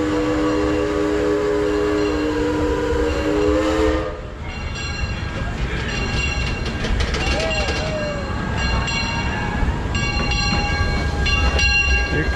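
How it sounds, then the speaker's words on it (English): Roller coaster train at Six Flags climbing the lift hill, a steady loud mechanical rumble with tonal whine that gives way to rhythmic ratcheting clicks and clatter, heard with people talking. "a roller coaster going up the hill now"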